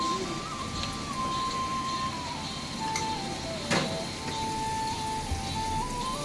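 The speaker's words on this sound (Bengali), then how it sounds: "এখন এটাকে হালকা করে ভেজে নিচ্ছে। তাতে দিয়ে দিচ্ছে আদা বাটা জিরা বাটা।" Chaikka fish lightly frying in a pan with ginger and cumin paste gives a steady, crackling sizzle, fairly close, with a faint thin melodic tone running behind it.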